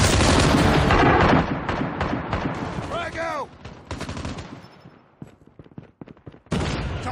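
Call of Duty battle royale gunfire, dense rapid shooting and heavy booms, loud at first, then thinning into scattered shots before a final burst.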